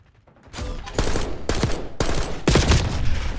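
Burst-fire gunshots in Black Ops 6, arriving in four distinct loud bursts about half a second apart, each a tight cluster of sharp cracks with the game's mechanical clatter between them.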